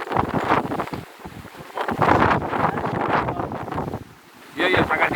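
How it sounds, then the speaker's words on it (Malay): Strong 20-knot wind buffeting a sailing boat at sea, loud gusty roaring and microphone rumble that swell and drop with a brief lull near the end, with a voice heard faintly in the mix. "angin sangat kuat 20 knot"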